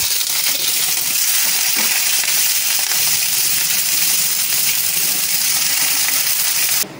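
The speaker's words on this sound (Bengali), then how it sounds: "এবার এতে দুটো কাঁচা পেঁয়াজ আমি ভেজে নিচ্ছি," Two raw onions fry in hot white oil in a kadai with a loud, continuous sizzle and crackle. The sound stays close and steady the whole time, with no talk over it.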